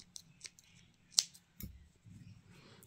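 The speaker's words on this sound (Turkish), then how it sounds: "Buraya bir tane zincir çekip ipimi kesiyorum." Scissors snip the yarn after a chain is crocheted on a knitted slipper, giving a few sharp, close clicks and snips spread over a quiet tabletop background.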